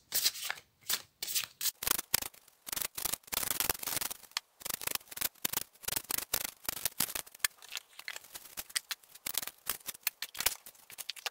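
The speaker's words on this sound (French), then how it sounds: "Je tire les cartes" Tarot cards are shuffled and drawn by hand in a steady run of papery riffles and slides, close and fairly soft, with brief pauses between strokes and no voice.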